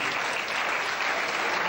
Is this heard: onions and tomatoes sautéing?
no